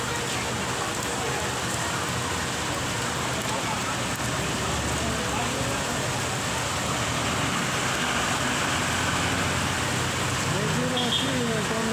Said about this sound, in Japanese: まだ雨が止みませんのでね、みんな雨宿り中ですね。